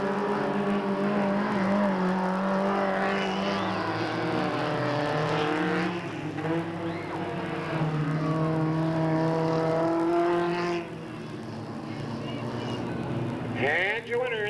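Stock cars racing the final lap at Delta Speedway in 1997, engines droning and revving loudly and continuously beneath an announcer's steady commentary, with a car passing near the end.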